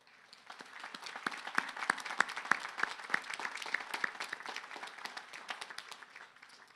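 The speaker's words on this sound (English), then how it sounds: "Would our vice presidents and deans please stand for a round of applause?" Sustained applause from a commencement audience at a community college ceremony, honoring vice presidents and deans as they stand; dense, steady clapping with sharp individual claps throughout, moderately distant in a large hall, with no talk over it.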